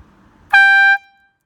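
A single short blast from an AirZound XL bicycle air horn, a plastic canister and small hose: one loud, bright, steady tone lasting about half a second, then cut off cleanly in a quiet outdoor space.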